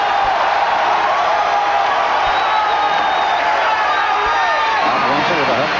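A packed arena crowd at a Rutgers men's basketball game roars continuously and loudly, a dense wall of cheering and shouting with a few whistles rising above it.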